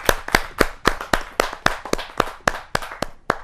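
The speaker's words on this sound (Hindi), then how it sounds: "जोरदार तालियों के साथ हम उनका स्वागत करें" Rhythmic, evenly spaced claps at a Hindi poetry gathering welcoming a poet on stage, sounding like one or a few hands clapping steadily and close.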